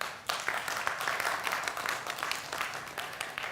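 A studio audience bursts into applause for a singer on a televised talk show, a dense sustained clapping from many hands that starts sharply and carries on steadily at full strength.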